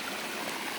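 River water rushing steadily along a rocky course, a constant broadband wash with no voices over it.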